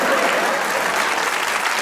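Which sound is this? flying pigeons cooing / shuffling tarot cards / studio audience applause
studio audience applause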